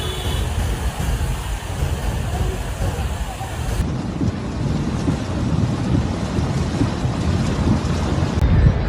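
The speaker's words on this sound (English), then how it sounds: "Heavy rain and thunderstorms occurred in Jeddah." Heavy rain and a thunderstorm over Jeddah make a steady, loud, broadband roar of downpour and gusting wind with low rumbling throughout, continuous and unbroken.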